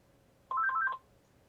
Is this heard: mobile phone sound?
yes